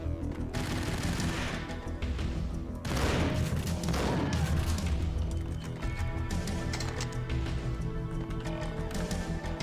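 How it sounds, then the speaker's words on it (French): Bursts of Uzi-style submachine gun fire, the Ingram, in the game Max Payne, rapid loud crackling volleys with a heavy flurry midway and ongoing shooting throughout. "Alors, lui, il tire avec une espèce d'Uzi qui s'appelle l'Ingrave."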